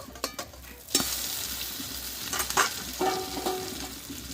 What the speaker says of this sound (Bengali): দিয়ে আমি এই খুন্তিটা দিয়ে আমি একটু আমি উল্টিয়ে দেব